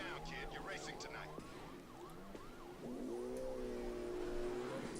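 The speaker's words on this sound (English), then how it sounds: "what looks like a police chase in a Ford F-150" Police sirens wail in a pursuit of a Ford F-150 in The Crew, several overlapping rising-and-falling sweeps over a low car engine rumble, a steady tone breaking in partway, moderately loud and constant throughout.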